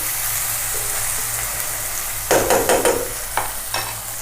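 Spices frying in a pan on low flame for a Bengali Katla fish curry in mustard oil, a continuous soft sizzle joined by a few sharp scraping stirs of a spatula partway through, with no voices.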